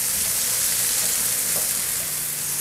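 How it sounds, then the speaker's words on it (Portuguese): Chopped onion and garlic sauté in a hot pan for a chicken coxinha filling, giving a steady, close frying hiss that holds evenly throughout, with a sharp clink and louder burst right at the end. "Cebola refogando."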